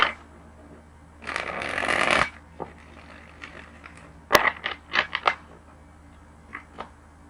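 Tarot cards are riffled in one brisk shuffle, followed by scattered soft taps and flicks as they settle and are handled, with no talking.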